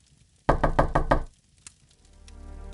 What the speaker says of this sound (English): Can you answer the door, Kieran?